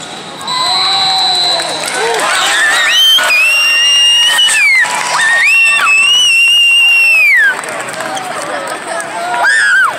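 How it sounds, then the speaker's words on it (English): A crowd at a youth boys' volleyball match cheers and shouts loudly during a third-set comeback, with whistles and sneaker squeaks cutting through the roar and close voices talking over it. "The crowd's on their feet right now!"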